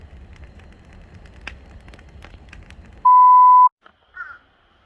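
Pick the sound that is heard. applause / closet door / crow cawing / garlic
crow cawing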